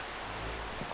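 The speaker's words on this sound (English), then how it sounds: "Oh, it's raining outside." Steady Minecraft video game rain falls as an even, continuous hiss across the whole second, with no voices over it.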